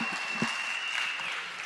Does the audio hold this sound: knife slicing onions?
no